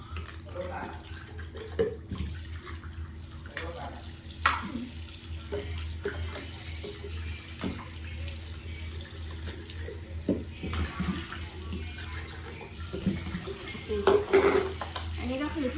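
Running tap water over a baby's milk bottle being washed at a sink, a steady close stream with scattered clinks and splashes as the bottle is handled.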